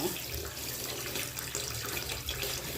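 Tap water runs steadily into a kitchen sink or bowl while about four cups of glutinous rice are washed for Valenciana, a constant close splashing rush without talk.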